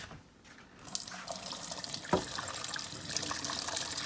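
Water drains from a pot of cooked linguine noodles into a sink, starting faint and then swelling into a steady, close rushing pour with a brief splash midway, with no talking over it.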